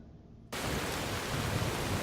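Rain in the video game Skyrim sweeps in abruptly after a brief quiet moment, becoming a steady, dense hiss that holds evenly to the end.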